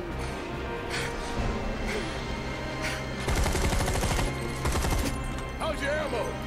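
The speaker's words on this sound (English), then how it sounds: "Barret is just unloading shot after shot into him" Rapid gunfire from a character's weapon in the video game Final Fantasy VII Remake, fired in bursts over game music and effects, loud and dense through the middle of the stretch.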